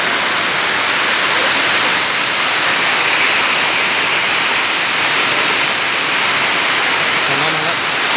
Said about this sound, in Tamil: திடீர்னு வர்ற மழை இந்த மாதிரி தான் ஃபாஸ்ட்டாக வரும்.